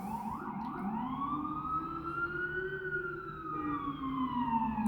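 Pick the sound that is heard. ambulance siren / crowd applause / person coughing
ambulance siren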